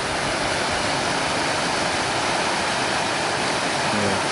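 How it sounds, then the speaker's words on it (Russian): An artificial waterfall formed where a dam was breached pours steadily near the Belovsky waterfall site, a dense, continuous rushing roar with no break and no voices. "Этот водопад искусственного происхождения."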